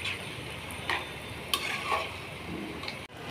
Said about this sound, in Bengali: ভাজা ভাজা হচ্ছে।